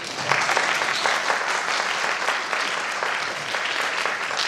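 Steady audience applause in a hall after a song at a dance-drama performance, dense even clapping from many people sustained throughout without talk.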